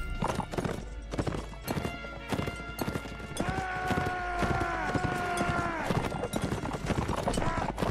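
Horse hooves clip-clop in a rapid gallop in the Mount & Blade Warband game, with a whinny rising midway, close and steady while a player talks over it.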